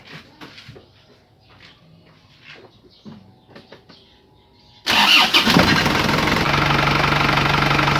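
An Isuzu Crosswind with a converted fuel pump and sedimentor sits quiet while faint clicks and handling noises are heard. Then its diesel engine cranks and catches abruptly, settling into a loud, steady, knocking idle.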